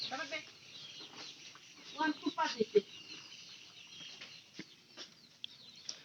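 Backyard chickens cluck in short bursts at a moderate distance, with some rustling and faint background sounds between the calls.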